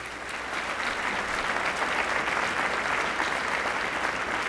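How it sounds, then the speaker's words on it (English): Steady, dense applause from a crowd at a downtown anniversary celebration, loud and sustained for several seconds after a musical performance. "Give them a round of applause right now."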